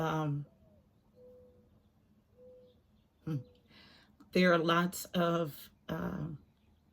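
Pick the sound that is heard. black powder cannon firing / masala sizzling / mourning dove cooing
mourning dove cooing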